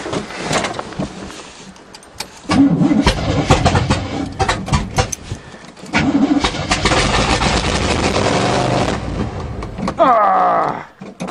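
An old 1977 GMC truck with a 400 small-block engine cranks repeatedly in snow and tries to catch, grinding and sputtering in long loud stretches with a brief lull between attempts.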